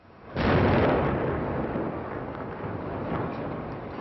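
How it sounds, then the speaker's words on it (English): An archive recording of an IRA bomb explosion: one sudden, heavy blast hits at full force and then decays into a long rumbling roar that slowly fades, with no voices over it. "That was an IRA bomb."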